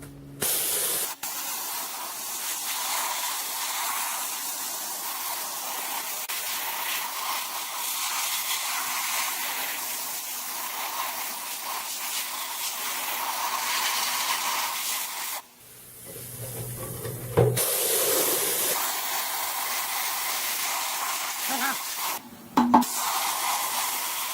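A DIY sand blaster fed by an air compressor set to 80 pounds blasts an old, corroded cast iron frying pan with a strong continuous spray hiss, briefly stopping twice with small clunks between bursts.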